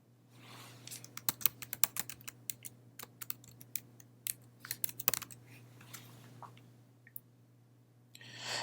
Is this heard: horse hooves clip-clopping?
no